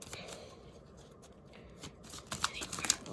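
A deck of playing cards is shuffled close by. A soft, steady rustle gives way to a quick riffle of crisp, fluttering clicks near the end, with no voices.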